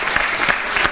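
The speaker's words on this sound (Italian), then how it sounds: "E ancora invece qua stava venendo fuori un altro applauso" Crowd applause breaks out during Pope Francis's visit to Pietrelcina and San Giovanni Rotondo, a dense, steady wash of many hands clapping at moderate distance with brief swells, no talk over it.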